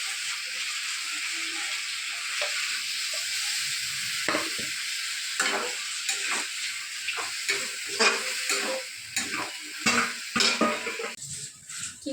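Mixed vegetables with spices fry in a pan with a steady close sizzle, while a utensil stirs and scrapes against the pan in irregular bursts during the second half.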